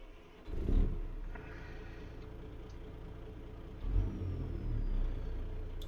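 A Freightliner FLX truck engine in American Truck Simulator cranks and catches, then settles into a steady, close low rumble with a second surge of revving a few seconds later.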